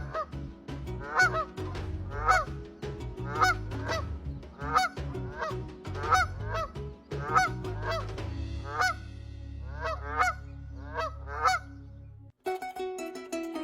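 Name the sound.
flock of flamingos calling at crater lake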